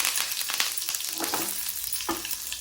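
Mustard seeds and red chilli crackle and sizzle in hot oil as tempering for rasam, a loud continuous hiss with a few sharper pops and stirring scrapes close by.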